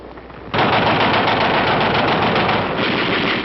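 An automatic rifle fires a sustained, rapid burst in Korean War combat footage, loud continuous rattling that begins abruptly after a brief lull and keeps going to the end.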